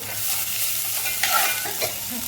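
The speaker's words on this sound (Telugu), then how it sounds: "కొత్తిమీరు ఇలా వేసుకొని కలుపుకోవాలి" Vegetable biryani being stirred in a pot after chopped coriander and mint are added, a close, steady scraping and stirring over a soft sizzle with no talk.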